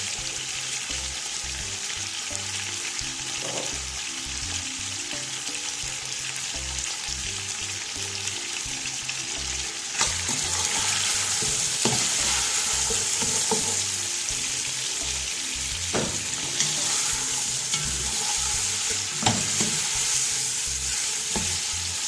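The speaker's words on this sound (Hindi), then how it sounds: "ये लहसुन अदरक का पेस्ट डाल दूंगी मैं इसमें।" Garlic ginger paste sizzles steadily in a hot pan for a chicken white korma, with stirring scrapes and a rising crackle partway through, close and continuous throughout.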